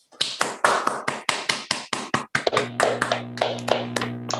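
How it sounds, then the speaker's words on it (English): Scattered hand claps from a few participants in an online meeting, crisp and fairly evenly spaced at first, then thinning out over a steady electronic hum. "Anyone who can unmute, please unmute and give Danny a round of applause"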